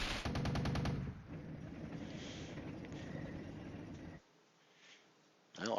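Artillery fire in the war game Flashpoint Campaigns: Red Storm opens with a rapid, loud burst of repeated shots, then rolls into a sustained heavy rumble of gunfire before dropping to near quiet, with a brief blast at the end.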